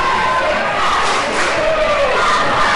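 A high school cheerleading squad cheers at a basketball game, South Hadley Tigers against Chicopee Comp Colts, with a dense, steady roar of gym crowd voices and shouts sustained throughout.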